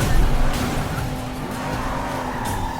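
Tires squeal and skid loudly during a car chase in the video game Sleeping Dogs, with steady engine roar under the screech.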